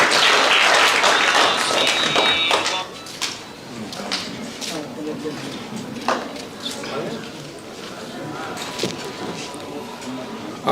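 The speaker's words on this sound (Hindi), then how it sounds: "इस्तकबाल करें तालियों से।" An audience at a grant and honours ceremony of a Jalalpur welfare society bursts into loud applause to welcome a speaker, then it thins into sparse claps under a talking voice.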